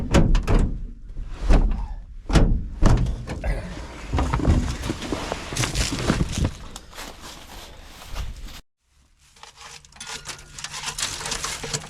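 Someone forcing open the stuck door of a 1965 Chevy, with several loud, close thunks and creaks in the first few seconds, then scraping and rattling, a brief silence, and quieter handling noise.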